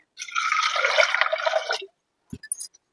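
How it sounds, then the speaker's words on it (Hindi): Water pours into a pot of vegetables for soup in a continuous splashing stream lasting under two seconds, followed by a few separate drips and small clinks. "ये सब्जी डाल दी मैंने और इसमें पानी डाल देंगे"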